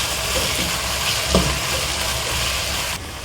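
Whole spices such as fenugreek seeds and crushed cumin sizzle in a hot frying pan as they are stirred together, a steady close frying hiss with a single sharp scrape partway through, then a quieter tail.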